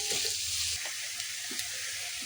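Onions, curry leaves and green chillies sizzling in a hot pan: a continuous loud hissing fry fills the clip, with low stirring thumps and scrapes beneath it, close up and without talk.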